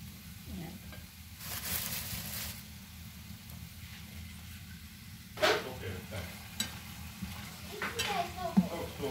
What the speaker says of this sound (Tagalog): medyo naluluto na yung ating mushroom